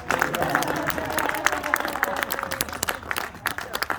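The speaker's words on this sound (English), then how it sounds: "I would like for everybody to give a round of applause to our backstage help" A ghost walk tour group in a historic house gives a scattered round of applause for the backstage help, irregular claps of modest loudness with voices talking underneath.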